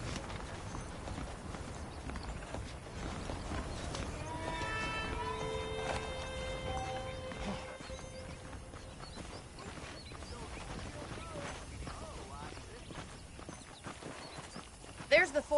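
Horse hooves clip-clop steadily in Red Dead Redemption, a light rhythmic patter at moderate distance running under a man's speech and a swelling musical score.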